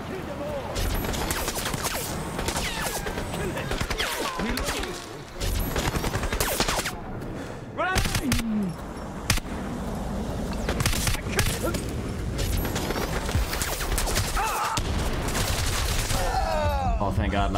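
Heavy-recoil gunfire in the video game Crysis rattles in rapid, dense bursts almost nonstop, loud and close, with a player talking at times over the shots.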